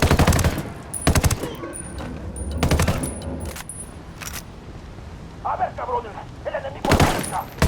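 Automatic gunfire in Ghost Recon Wildlands comes in several loud, rapid bursts with short pauses between them, mixed with voices calling out.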